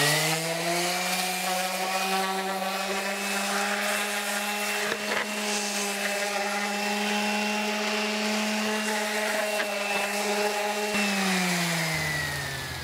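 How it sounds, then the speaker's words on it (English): A power sander runs over cut lumber pieces for sawhorses, giving a steady, loud motor whine with a rough scratching texture that holds for about eleven seconds before the pitch drops as it winds down. "just go ahead and give them a light sanding"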